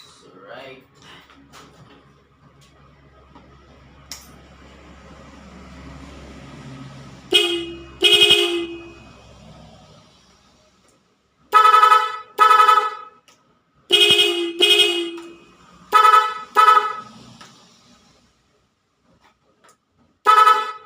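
An aftermarket dual car horn on a touch sensor sounds in a series of short honks, some in quick pairs, loud and close, separated by pauses with quieter background noise.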